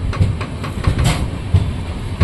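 On the Chitradurga to Bangalore route, a train rolls through a station without halting; a continuous low rumble carries soft, irregular clickety-clack wheel beats close by, with no talking.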